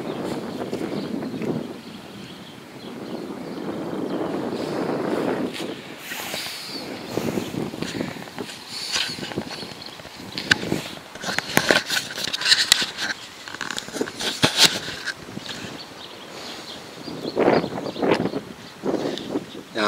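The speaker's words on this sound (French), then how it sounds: "il y a un vent fou en plus." Strong wind buffets the microphone in rumbling gusts at a riverside fishing spot, with rustling and crackling bursts throughout.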